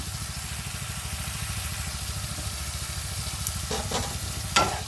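Taro and prawns fry in spices in a pan, giving a steady close sizzle with rhythmic scraping strokes from stirring and a couple of sharper clinks near the end.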